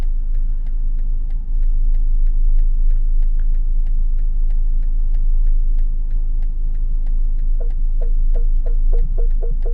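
A BMW 220d Gran Coupe steers itself into a parking space with its park assist, a steady diesel engine hum beneath regular ticking clicks that quicken near the end.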